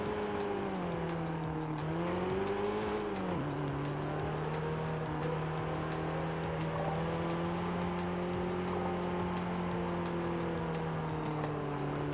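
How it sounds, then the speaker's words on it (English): A loud car engine drones steadily close by at a car meet and cruise, its pitch rising and dipping early on before settling into a sustained roar. "That car is so loud, I can hear it."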